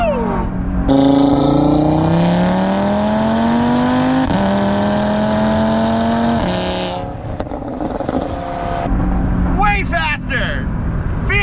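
Stage 2 Audi RS3 running E85 fuel with a Unitronic tune accelerates hard, its engine note climbing steadily through the gears in loud, close, sustained pulls, with excited voices shouting and talking over it throughout.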